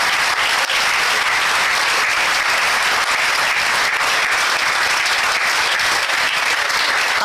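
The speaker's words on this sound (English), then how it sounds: "A big round of applause to this entire dais" Sustained, dense audience applause for a conference accreditation panel seated on a dais, loud and steady throughout with many hands clapping at once and no voices over it.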